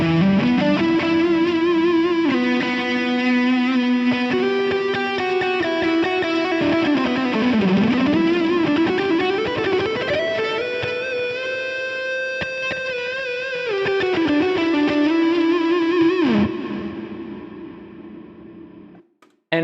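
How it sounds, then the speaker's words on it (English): An electric Stratocaster played with a metal tone through an Axe FX, soaked in a second delay at a different tempo and a wide hall reverb, sustaining bright chords and bends that swell and then fade into a long reverb tail. "I also enjoy adding another delay with a different tempo and another reverb with a bigger room"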